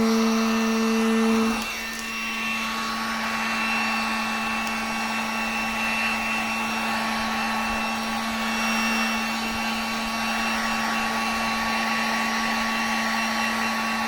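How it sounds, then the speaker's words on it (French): A heat gun on its first speed setting blows a steady, loud whooshing hum with a constant tonal whine, running alone for the whole stretch after a brief shift in pitch at the start. "on va essayer de faire un peu de décapeur, première vitesse"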